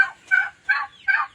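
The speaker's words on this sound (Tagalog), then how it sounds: "Ito nga pala yung mga naglilimlim na pabo." Brooding turkeys gobble in three short, close bursts with brief pauses between them, clear and alone without other sounds.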